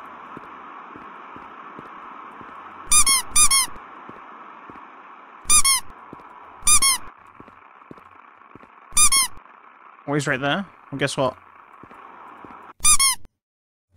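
A rubber duck squeaks in a video game: sharp, bright squeaks come singly and in quick pairs, spaced irregularly over a faint steady hum, with a voice speaking briefly in between.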